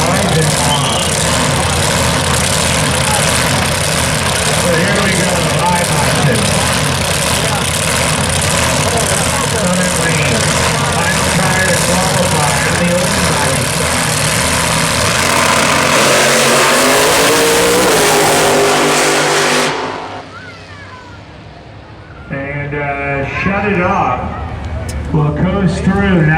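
A Pontiac Firebird-bodied drag race car at the Pontiac Nationals launches hard and screams through a long, loud sustained acceleration, engine roaring close for about twenty seconds before cutting off abruptly, with a fainter engine and voices following.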